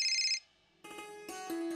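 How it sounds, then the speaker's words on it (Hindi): A phone ringtone chimes in bright electronic tones, a short burst, a brief pause, then a fuller melodic ring, clear and alone with no talking. "राम भाई साहब का फोन भी आ गया"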